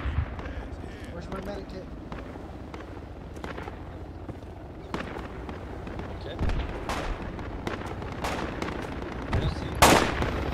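An enemy grenadier fires in a jungle combat video game, producing scattered gunshots and sharp blasts at varying distances, ending in a louder burst, while a player talks over the action.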